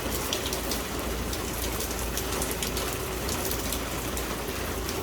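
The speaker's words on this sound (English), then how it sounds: "You can see there's sheets of rain still going across the parking lot" Heavy rain sweeping across a parking lot in a storm, a steady dense roar of downpour with gusty wind, continuous and fairly close throughout with no talking.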